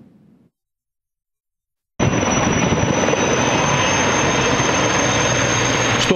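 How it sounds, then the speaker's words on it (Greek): Loud, steady rotor and turbine roar of an Erickson-type firefighting helicopter at Andravida airport, starting abruptly after a brief faint murmur and continuing without a break. "Στο αεροδρόμιο της Ανδραβίδας βρίσκεται έγκαιρα φέτος το ελικόπτερο τύπου Έριξον"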